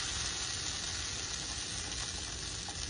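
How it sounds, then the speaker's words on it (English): Garlic, peppers and tomatoes roast in a hot pan, giving a steady, even sizzle that runs quietly and continuously without talk. "So we're gonna roast our garlic with our peppers and tomatoes."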